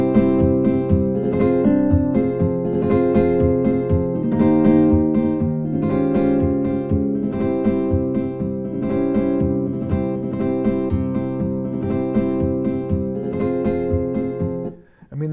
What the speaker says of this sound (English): going to put a flamenco patch up, and that sounds like this.